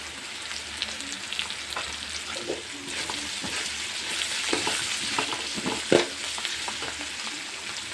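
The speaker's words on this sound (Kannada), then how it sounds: "ಅದು ಚೆನ್ನಾಗಿ ಫ್ರೈ ಆಗ್ತೈತೆ ನೋಡಿ" Seasoning for raw mango chitranna crackles and sizzles in a hot pan with a steady, dense fry, broken by occasional scrapes and clinks of stirring. One sharper clatter comes near the end, and no voices are heard.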